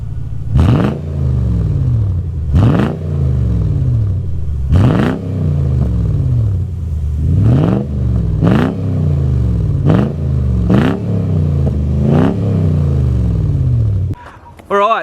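A Toyota Land Cruiser 100 Series V8 with its old exhaust is revved repeatedly, about eight sharp, loud blips that each rise and fall back to idle in a steady rhythm, with a brief voice near the end.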